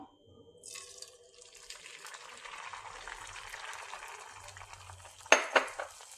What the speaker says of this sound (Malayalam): ഓയിൽ ചൂടാകുമ്പോൾ അതിലേക്ക് കലക്കി വെച്ചിരിക്കുന്ന മുട്ടയുടെ വെള്ള അതിലേക്ക് ഒഴിച്ചു കൊടുക്കാം